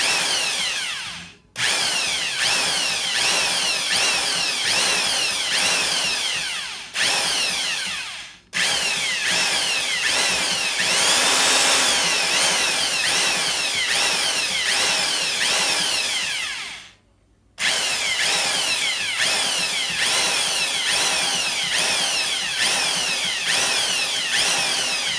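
A Lisle 15000 ridge hone spins in a drill at about 400 RPM inside an engine block cylinder bore, a loud continuous abrasive whir broken by three brief stops when the drill is released.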